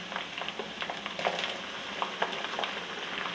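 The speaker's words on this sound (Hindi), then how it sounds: "इधर मैंने 2 टमाटर डाल दिए मैंने।" Two tomatoes frying in a pan for a dal chicken dish, giving a steady close sizzle with crackling pops and occasional stirring scrapes, no voice over it.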